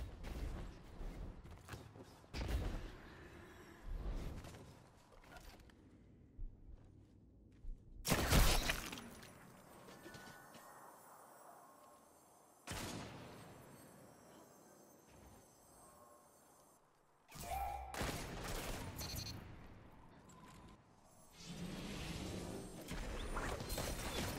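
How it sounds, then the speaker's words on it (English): Explosive charges detonate in a video game, several loud broadband bursts with crashing, shattering debris spread across the clip, separated by quieter mechanical rumble. "Detonate those charges."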